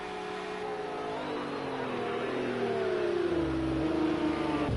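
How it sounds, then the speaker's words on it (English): Race car engine in the Project Cars 2 racing game on a long straightaway, a continuous droning roar whose pitch climbs steadily as the car accelerates in the slipstream. "Let's see what kind of run Gonna Gamble gets down this long straightaway using the slipstream"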